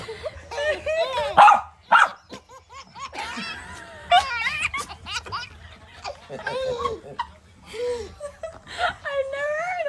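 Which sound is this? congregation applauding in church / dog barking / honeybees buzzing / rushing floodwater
dog barking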